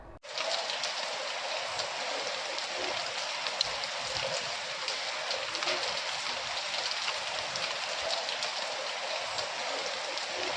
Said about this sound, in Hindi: मौसम में अचानक बदलाव के साथ बारिश की एंट्री हुई